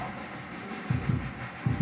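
An old Darjeeling mountain toy train pulls in with a low, steady rumble broken by a few heavier rhythmic thumps of its wheels. No voices.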